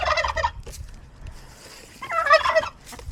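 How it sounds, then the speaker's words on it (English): Chickens and a red rooster clucking and calling in two loud bursts with a quieter gap between, up close with no talk. "Look at these chickens."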